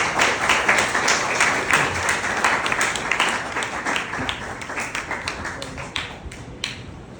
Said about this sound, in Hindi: तो मैं प्लीज़ आपकी भरपूर तालियों में हम वेलकम करते हैं।